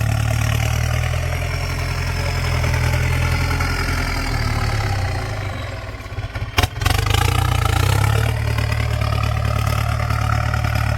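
A 6640 tractor engine idling close by with a steady low throb. It briefly drops and clunks partway through, then settles back into the same idle.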